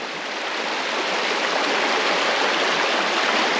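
A river at a campsite in the Victorian High Country rushes in a steady, loud, broadband wash that swells slightly and then holds constant, with no voices.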